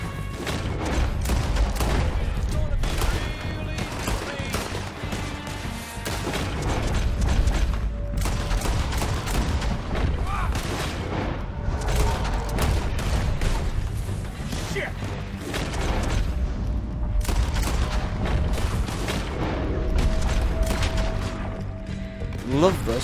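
Gunshots in Red Dead Redemption 2 during a raid on O'Driscoll's mountain camp: repeated sharp cracks and bursts spread through a long, busy stretch of combat, moderately loud, with shouting voices and clattering mechanisms mixed in.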